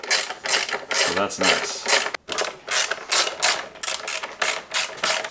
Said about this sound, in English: It looks like you just take the bolts out and the fork guards stay where they are.